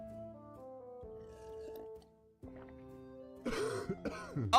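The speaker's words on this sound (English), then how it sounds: "Cough, cough." A few seconds of tonal sound end in a harsh burst of throat clearing and coughing near the end.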